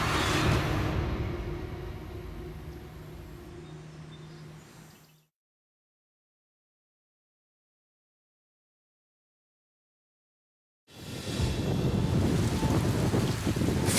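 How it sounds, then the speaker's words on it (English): Heavy rainstorm with thunder pounds down as a dense, loud roar of rain over deep rumbling, cutting out into total silence for several seconds before the downpour returns just as strong. "Faced with a massive rainstorm"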